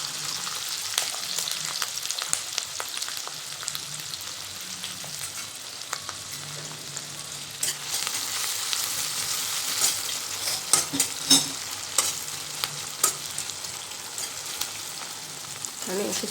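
Finely chopped capsicum fries in oil and butter in a large batch of pav bhaji, a loud close sizzle with spoon stirring and scraping that grows busier toward the end, and no one speaking.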